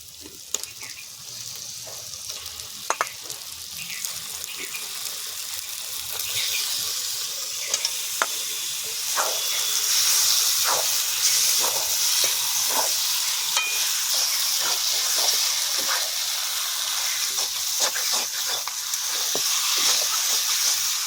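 Duck meat frying in hot oil in a home kitchen, a steady loud sizzle with occasional sharp crackles and pops throughout, no voices.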